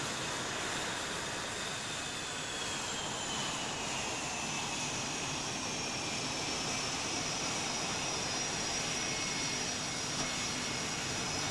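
Continuous roaring whine of an F-105 Thunderchief jet aircraft, a broad steady jet-engine rush with faint shifting tonal whines, heard alone without speech.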